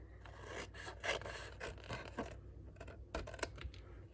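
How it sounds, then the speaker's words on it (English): Paper snips cut through card paper while trimming an angle on a slimline card envelope: a run of crisp, close rasping snips and scrapes in irregular bursts, with no talking. "I'm just going to take my scissors, my paper snips, and just cut just a little angle here."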